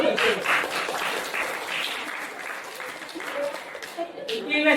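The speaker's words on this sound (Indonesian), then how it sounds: "Tiga, aplaus dulu." Audience applause in a classroom drama performance, a steady clatter of many hands clapping for several seconds, with voices and chatter mixed in.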